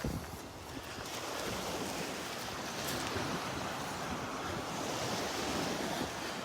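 Ocean waves wash steadily onto a morning beach in North Naples, Florida, a broad continuous surf roar with some wind buffeting the microphone and no voices.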